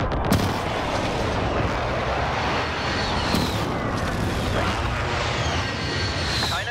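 A precision airstrike pounds the ground in Call of Duty: Modern Warfare, a loud, unbroken roar of blasts and heavy rumbling with sharp cracks layered through the whole stretch.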